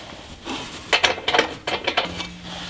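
Metal washers and nuts go onto the rear bumper bolts of a Jeep Cherokee XJ, making several close, light metallic clinks and rattles in quick bursts.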